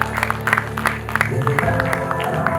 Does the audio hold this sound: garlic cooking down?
no